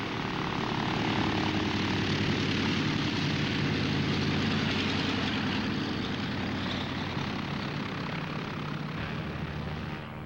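A propeller airliner departs an airport on a westbound mainliner flight, its engines a loud, steady droning roar that holds throughout and eases slightly at the end.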